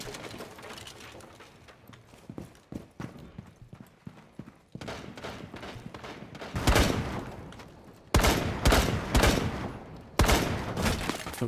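Rainbow Six Siege gunfire crackles in irregular bursts, faint scattered shots early giving way to louder rapid volleys toward the end, no talking.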